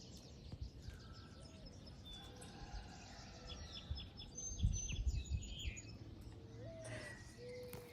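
Small birds near a garden nest chirp and tweet in short, scattered calls at moderate distance over a quiet outdoor background, with no talk.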